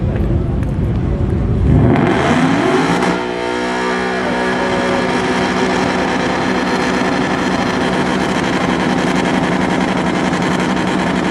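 A truck engine at an American muscle car show roars in a hard rev during a burnout, surging loudly then settling into a sustained high, steady drone with a falling whine.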